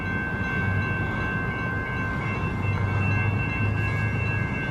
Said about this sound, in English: Just got here to the train. Good timing too, because it's coming.